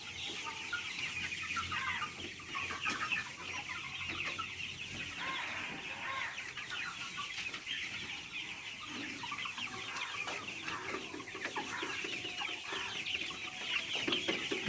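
Young Australorp hens, about three months old and kept on a farm inside a home, cluck and chatter continuously as a flock. The sound is a busy, moderately close din of overlapping calls with no clear voices.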